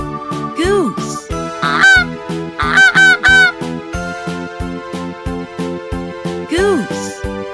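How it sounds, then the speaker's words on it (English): A goose on a farm honks loudly several times in a row, with sharp, nasal calls spread across the stretch and short gaps between them. "Goose."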